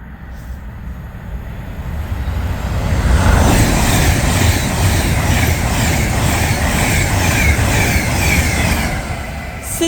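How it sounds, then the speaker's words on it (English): An Avanti West Coast Class 390 passing through Berkhamsted station: loud rushing roar rising quickly, then steady wheel clatter and rail noise as the carriages stream past close by. "Advanced West Coast Class 390, running from Liverpool Lime Street to London Euston."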